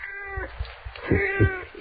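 A cat meows in a radio drama scene, two or three clear, close, drawn-out calls with a rising, wailing tone, heard over a faint low background.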